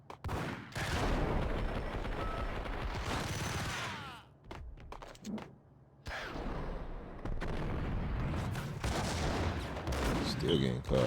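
Video game gunfire rattles in dense, loud bursts and volleys, with a brief lull partway through, while someone talks intermittently over the shooting.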